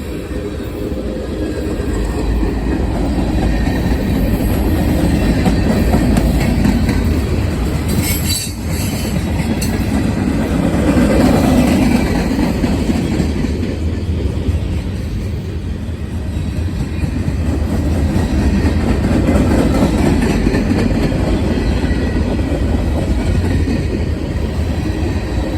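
A freight train rolls steadily past, an N-train DPU locomotive and an older Burlington Northern hopper car among its consist, producing a loud, continuous rumble with wheel clatter and a brief squeal near the middle, no talk over it.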